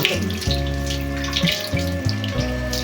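Neem water pours and splashes steadily while a dog is bathed, a continuous running-water sound like a tap filling a basin, fairly close and with no talk over it.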